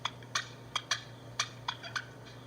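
Wild turkey giving a loud purr of slight alarm, heard as a series of about eight short, sharp rolling notes spaced irregularly, fairly close and distinct over a steady low hum.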